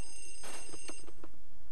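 Telephone ringing inside the Luigi's Mansion video game, a run of short electronic bell bursts repeating in quick rhythm, clear and moderately loud with no talk over it.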